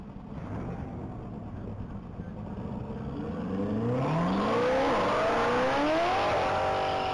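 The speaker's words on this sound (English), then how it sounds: "Taking off is vehicle number 6. That's going to be a 2021 Corvette" A 2021 Corvette launches at a top-speed mile racing event, its engine revving up through rising gear sweeps and growing louder as it pulls away from the line.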